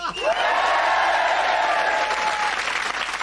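Studio audience on a comedy variety show applauds in a loud, sustained burst of dense clapping, with a few cheers and whoops rising through it from start to finish.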